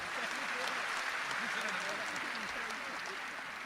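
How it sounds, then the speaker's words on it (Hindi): Audience clapping at a Hindi poetry recitation, heard as a steady wash of applause with a voice running underneath it throughout. "ताली बजाने की जरूरत नहीं थी"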